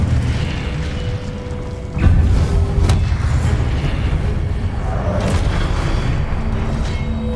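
An Incendio fire spell goes off in the Hogwarts Legacy video game, a heavy booming burst that lands at about two seconds and is followed by a rumbling fiery roar.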